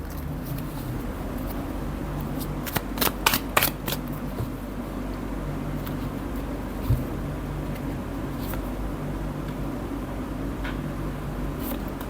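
Tarot cards shuffled in a brief burst of crisp riffling flutters, close and alone against a steady low background hum.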